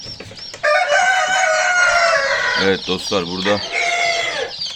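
Wyandotte and other chicken breeds fill a coop with loud overlapping clucks while a rooster crows clearly partway through; someone talks briefly at the start.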